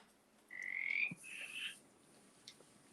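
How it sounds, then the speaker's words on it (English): Frogs calling outdoors near a porch: a couple of short, bright croaking calls, one after another, fairly close over a low background hiss, with a faint click afterward. "I really do hear frogs now"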